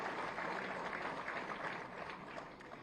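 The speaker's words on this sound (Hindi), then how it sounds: "सभी लाभार्थियों के लिए एक बार जोरदार तालियां शुभकामनाओं के रूप में मंच तक पहुंचाई जाए" A crowd at a government loan distribution event in Uttar Pradesh claps for the beneficiaries, dense continuous applause that is fairly distant and faint throughout.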